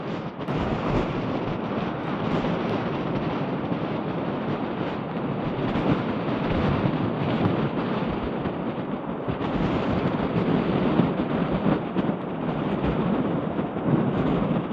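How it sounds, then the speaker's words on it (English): Wind at Cape Point on the coast, a continuous loud roaring rush of gusts buffeting the microphone, steady throughout with no voices. "just a tad windy."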